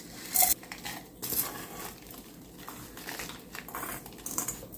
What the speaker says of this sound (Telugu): ఇప్పుడు ఇవన్నీ మిక్సీ జార్లో వేసేసుకుంటున్నాం